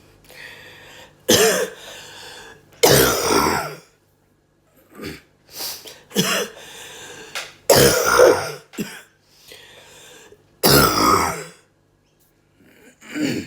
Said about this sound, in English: I don't know how long this rattly cough will last for